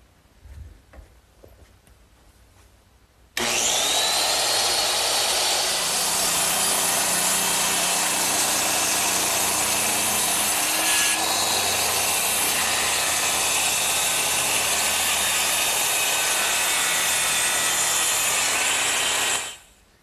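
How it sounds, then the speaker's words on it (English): A circular saw rips through two nailed-together wooden gable pieces clamped in a bench vise, a loud steady whine that starts abruptly after a quiet moment and runs continuously for about sixteen seconds before cutting off. "I'm ready to cut them with my circular saw"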